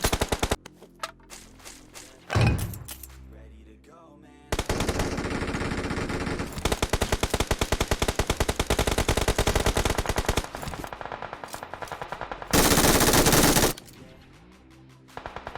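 Video game gunfire comes in loud bursts of rapid automatic fire, separated by short quieter gaps, with several long sustained volleys.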